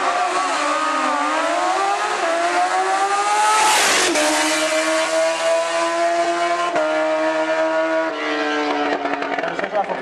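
A Yamaha quad runs a quarter-mile pass at a dragstrip, its engine note winding up steadily through the gears with brief dips at the shifts, loud and continuous for the full run.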